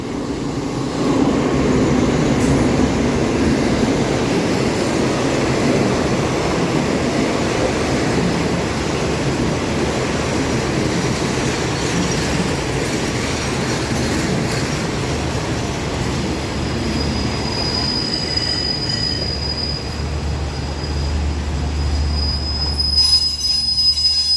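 An Alstom diesel train, Thai express 107, rolls into Ayutthaya station with a steady rumble and high metallic wheel squeal, the low engine drone growing as it slows near the platform.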